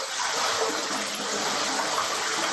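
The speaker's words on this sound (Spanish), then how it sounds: "agua golpeándose a sí misma" Water splashes and churns against itself in a dense, steady rush, loud and close, with no pauses.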